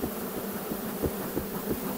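Honey bees drone steadily at a beehive, a dense, close insect buzz running continuously with slight pulsing swells and no voices.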